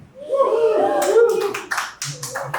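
Comedy special audience cheering and clapping, loud crowd whoops and voices at first, then scattered sharp handclaps taking over, close and full.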